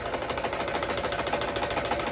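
A sewing machine running steadily, its needle stitching in a fast, even mechanical rhythm, close up and moderately quiet.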